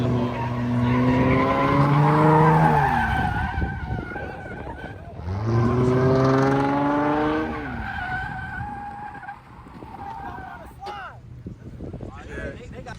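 A car spins its tires in two long, loud bursts of rising squeal and engine roar, each lasting several seconds, then the noise drops to quieter idling and rumble with voices faintly under it.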